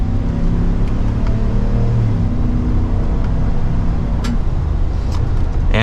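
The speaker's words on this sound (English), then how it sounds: "we'll go to second gear and give it an acceleration" A 2024 Chevrolet Silverado 1500 ZR2 pickup truck accelerates in second gear in low range, its engine a steady, loud, low drone heard from inside the cab, with no talk over it.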